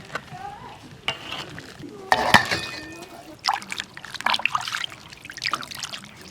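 Boiled pig trotters are rinsed in water after blanching with scallion, ginger and dried chili; splashing, trickling and pouring sounds come in bursts, close by, with light clinks against a vessel.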